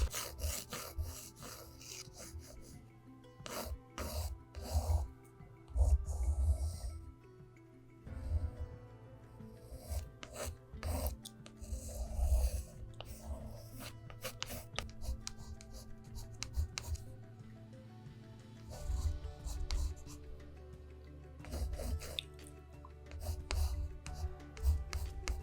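Pencil or pen drawing a brontosaurus dinosaur in a sketchbook, close and quiet, with steady scratchy strokes and rubbing that come in short bursts and pauses, with faint music or hum underneath.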